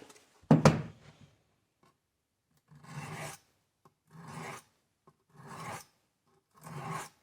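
A cheap Schrade Imperial pocket knife with soft steel is drawn across a 300 to 400 grit abrasive, giving four even rasping strokes about a second apart, each one close and distinct, after one sharp knock near the start.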